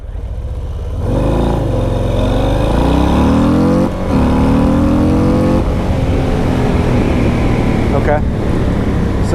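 A 2022 Harley-Davidson Low Rider S motorcycle pulls hard from a stop on a street, its engine note climbing steadily through the gears with a brief dip around a shift, loud and close, with wind rush throughout.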